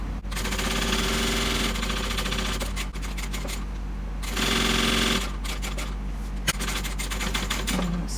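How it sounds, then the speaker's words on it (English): A sewing machine runs in long continuous bursts, stitching around a handbag lining pocket with right sides together, its steady mechanical whir pausing briefly between runs. "I'm going to sew it around and leave a gap at the bottom."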